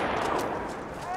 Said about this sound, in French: Là, mitrailleuse ennemie.